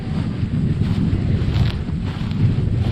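Wind gusting across exposed Dartmoor moorland near Tunhill Rocks, a continuous loud low rumble buffeting the microphone with no break, no voices.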